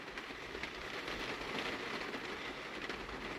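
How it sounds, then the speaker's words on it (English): Steady rain drumming on the roof of a van, a dense continuous hiss and patter at even loudness throughout, with no voices. "Listen to that rain."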